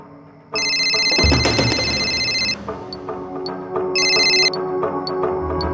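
A telephone rings in two electronic bursts separated by a pause, loud and close, with some rustling and movement in between.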